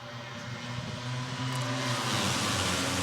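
A Moto3 racing motorcycle accelerates out of the last corner on the final lap of the Spanish Grand Prix, its engine note climbing steadily and growing louder and harsher over a few seconds, with no speech.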